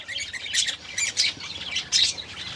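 A pet myna bird gives harsh, close squawks in quick irregular bursts, about five calls over a couple of seconds, with no talking.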